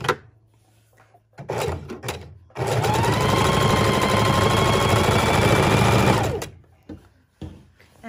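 A sewing machine stitches two layers of fabric for a neck bone pillow, with a couple of short stitch bursts and clicks before a sustained, close run of steady stitching lasting several seconds, then quiet handling sounds.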